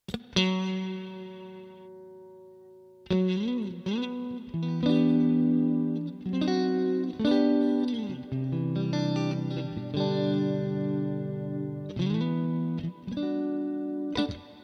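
Clean funk guitar played through a Neural DSP Archetype Cory Wong plugin with reverb, crisp chords and single-note phrases in bursts with short pauses, notes ringing out with a lingering wash.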